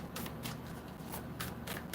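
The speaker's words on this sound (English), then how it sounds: "One more shuffle." Deck of cards being shuffled several times in quick succession, soft riffling bursts at close range with no talking.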